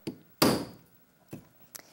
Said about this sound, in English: I've hit it hard. I've got a small hammer.